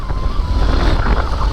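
An XR dirt bike roars through water on an off-road river crossing, its engine and splashing blended into a rough, loud rumble with wind buffeting the microphone.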